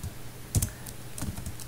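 Keys tapped on a computer keyboard while a project name is entered in a programming setup, a short burst of close, quiet clicks in two small clusters over a low steady hum.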